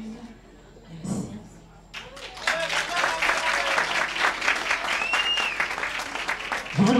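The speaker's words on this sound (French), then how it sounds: "Je vous demande de les applaudir chaleureusement, s'il vous plaît, avec beaucoup de chaleur." At the grand final of a December 2018 Christmas contest, a crowd breaks into sustained, warm applause after a quiet moment. The clapping stays steady and full for several seconds, mixed with scattered voices.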